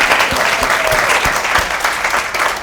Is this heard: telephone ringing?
no